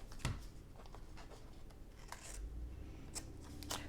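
Scissors trim pieces of sticky cardstock, giving a few quiet, separate snips and rustles in a calm room with no talking.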